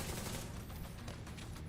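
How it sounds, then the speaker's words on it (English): Rapid automatic assault rifle fire from the video game The Division, a dense continuous burst of overlapping shots filling the whole moment at a steady, fairly loud level with no talking. "It's a type of assault rifle."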